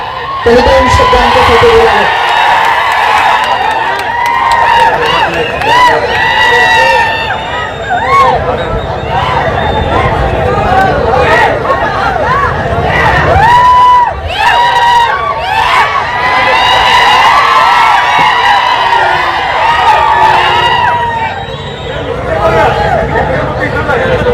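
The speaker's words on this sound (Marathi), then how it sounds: "टाळ्या शिट्ट्या" A large outdoor rally crowd at Pandharpur roars with cheers, whoops, shouts and shrill whistles in a continuous loud wave, with voices and babble mixed through the din.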